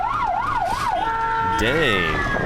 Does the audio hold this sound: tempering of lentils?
no